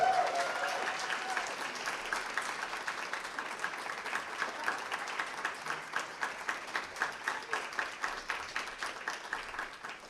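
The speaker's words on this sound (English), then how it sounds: "give a warm round of applause to welcome to the podium Sol Cabrini" An audience gives warm applause welcoming a speaker to the podium, steady clapping that thins into a few rhythmic, slightly louder claps toward the end, with a brief voice at the start.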